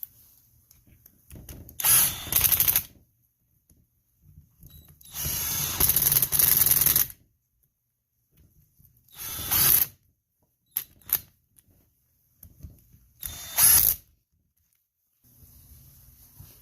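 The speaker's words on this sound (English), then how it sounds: "I'm going to go ahead and tighten these up, the impact real fast" Bursts from an impact wrench tighten the bolts on a Jeep TJ hydro assist install. Four long rattling runs and a few short blips are separated by quiet gaps, close and loud, with no talk.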